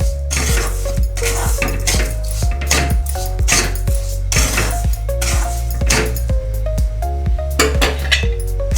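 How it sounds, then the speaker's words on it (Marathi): Spoon scrapes and clanks against a pan, steady and close, as sugar is stirred into roasted semolina for sheera, a sweet suji halwa, with rapid rhythmic metallic knocks throughout. "आता आपण साखर ॲड करूया व्यवस्थित मिक्स करून घेऊया"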